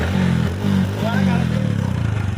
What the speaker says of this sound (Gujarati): બાઇક ચાલુ।